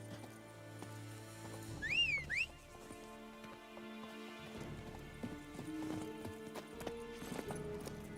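Roach, Geralt's horse in the video game The Witcher 3: Wild Hunt, clip-clops at a gallop under layered game music and ambience, with a high whinny near the start.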